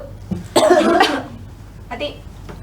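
Students in a classroom cough together on a teacher's command, a loud burst of overlapping coughs followed by a fainter second cough.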